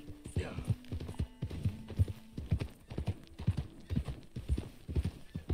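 Horse hooves clip-clop at a steady galloping rhythm while riding in Red Dead Redemption 2 on PS5, close and fairly loud, with a brief whinny and a low hum in the background.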